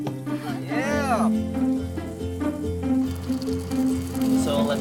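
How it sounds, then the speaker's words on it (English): Pinoy sizzling food crackles and hisses on a hot plate at close range, a steady fizzing sound under people's voices talking and exclaiming. "I can hear the sizzle"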